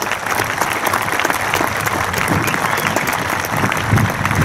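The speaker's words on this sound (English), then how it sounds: "round of applause" Sustained applause from a large audience at a high school graduation ceremony, steady and fairly loud throughout, with no voices standing out.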